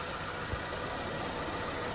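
Mitsubishi Lancer engine idling smoothly, a steady close mechanical hum with an even, unbroken drone and a faint single knock near the start.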